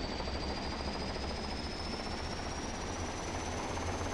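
Helicopter in the combat video game OFP (Operation Flashpoint), a continuous dense rotor and engine roar that stays steady and loud for the whole stretch, with no speech over it.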